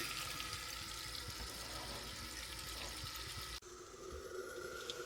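Hot water runs from the rear bathroom sink tap in an RV, a steady rushing hiss that abruptly drops and resumes at a lower, thinner flow, close by with no talking.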